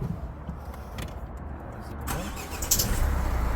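A 2011 Renault Koleos with a 2.0 dCi 150 hp diesel engine cranks and starts partway through, the engine catching into a steady, moderately loud diesel idle after a quiet interior lead-in.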